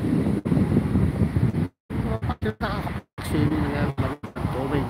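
Strong ocean waves and wind on a cold summer beach at 14°C, with a loud, steady roar of surf and gusts buffeting the microphone, cut by a few brief dropouts.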